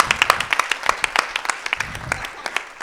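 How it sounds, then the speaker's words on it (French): A small audience at a short-film festival meeting with young directors claps, distinct individual handclaps in an uneven patter that thins toward the end, close and moderately loud. "alors, on peut l'applaudir."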